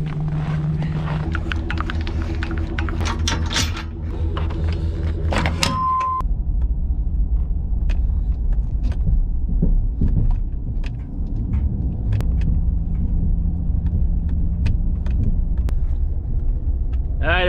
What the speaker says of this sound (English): I'm finally driving on Lake Poygan.